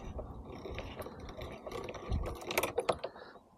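A small hand-cranked copper wire stripping machine with its cutter tightened grinds and clicks as wire is cranked through, giving soft irregular mechanical rattles that grow busier toward the end.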